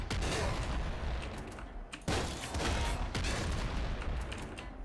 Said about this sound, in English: An auto motherfucking crossbow